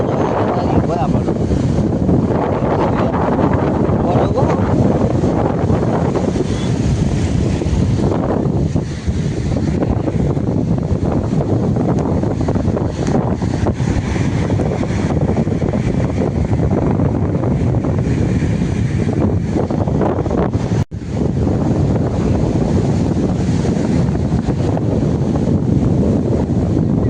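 Sea waves wash in steadily on the shore at Madhavpur beach while strong wind buffets the microphone, a loud, continuous roar that holds throughout apart from one brief dropout.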